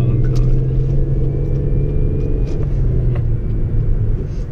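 A car engine runs steadily while driving, a low rumbling drone with road noise that holds at an even, close level throughout, with no talk over it.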